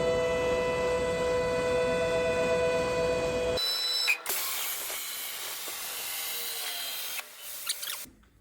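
A plasma table cuts 1.5 mm aluminium sheet for inner wheel arch closing panels, first a tonal, humming hiss, then a loud sustained rushing roar of the arc that stops abruptly near the end.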